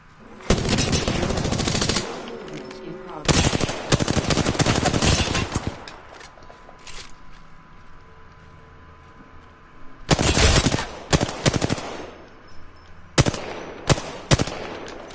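Full-auto gunfire in the shooter game Apex Legends: long loud bursts of rapid automatic shots, then shorter bursts and a few scattered shots, with quieter gaps between.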